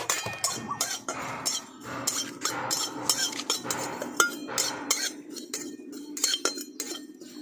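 White sesame and poppy seeds being stirred and dry-roasted in a wok, giving a busy run of metallic scrapes and light clinks from a utensil against the pan, fairly close and steady, with no talking.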